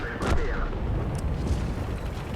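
Artillery fire in the World of Tanks video game: a heavy, rumbling boom with dense low-frequency roar that lingers steadily across the short stretch, with a faint higher crack layered over the continuous battle din.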